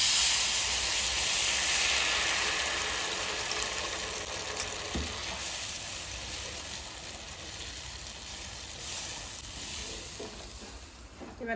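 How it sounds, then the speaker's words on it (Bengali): Water poured onto fried masala of green chilli and Kashmiri chilli powder in a hot pan, giving a steady loud sizzling hiss with steam that slowly fades over several seconds. "মশলা কষানো হয়ে গেছে, এবার একটু জল দিয়ে দেবো।"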